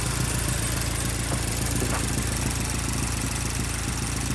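A Mazdaspeed3 engine running with a Ford Fusion 2.5 bottom end swapped in, idling in a steady, even drone with a constant low mechanical hum throughout, fairly close and alone with no talking.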